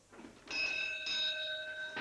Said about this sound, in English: Okay, bell's good here.